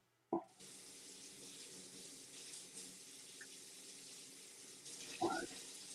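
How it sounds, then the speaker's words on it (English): Water running from a kitchen tap while someone does dishes, a faint, steady background stream with a couple of brief clatters. "Why do I hear water?"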